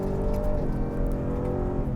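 A 2024 Ford F-150 Raptor R pickup growls along under way, its engine and exhaust a loud, continuous low drone with harmonic tones, steady throughout with no talk.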